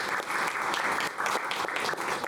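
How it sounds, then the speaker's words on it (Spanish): Seminar audience applauding a speaker at a school health policy session, a short burst of dense, steady clapping from a room full of people. "Pues les damos un aplauso a la..."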